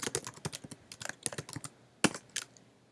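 Quick, close bursts of computer keyboard typing, irregular clusters of light key clicks with a short pause before a final flurry, no voices.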